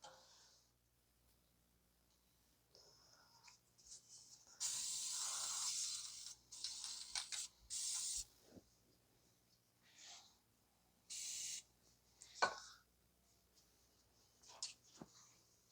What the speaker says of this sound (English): I'm just gonna spray a little bit of some of the rust proofing stuff